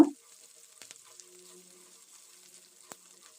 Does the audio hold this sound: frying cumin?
yes